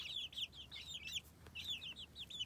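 A hen clucks among her chicks, a repeated series of bright, chirpy calls close by in two bursts with a short pause between, over a faint low background.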